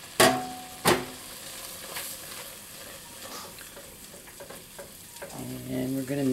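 Cornstarch is stirred into a sizzling pan for scalloped potatoes, two sharp utensil knocks at the start followed by a steady frying hiss and scraping stirs that grow louder toward the end.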